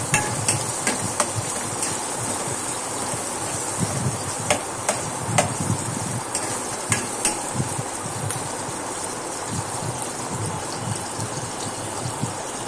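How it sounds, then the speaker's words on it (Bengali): Data shak greens, cooking for a prawn curry, are stirred in a frying pan with a soft continuous sizzle and scattered sharp scrapes and taps of the utensil against the pan. "এটা নরম হওয়া পর্যন্ত নাড়তে থাকতে হবে।"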